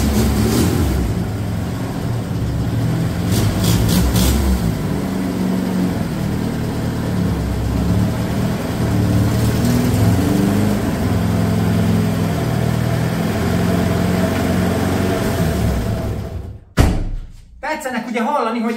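An old car engine idles with a steady low rumble and a rough, puffing exhaust note from a leaking exhaust, with brief talk over it and a sharp thump near the end.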